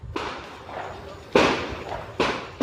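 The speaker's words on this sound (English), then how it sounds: "you can hear the sounds of gunfire in the distance, probably from a handgun" Three sharp handgun shots crack out near a prison, spaced about a second apart, each trailing off in a hollow echo that suggests distance.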